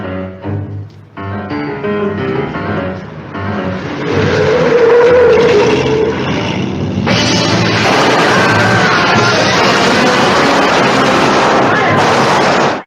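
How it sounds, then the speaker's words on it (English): A radio drama effect of a car screeching around a street corner: engine noise swells and a loud, sustained tire squeal and rumble build up, with music or other effects layered beneath. "a car comes screeching around the corner."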